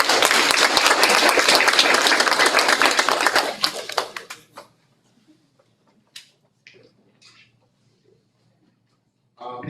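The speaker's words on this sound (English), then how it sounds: "Give them another round of applause." Sustained audience applause at a school board meeting, many hands clapping steadily for about four seconds before tapering to scattered claps and near silence, with a voice starting up at the end.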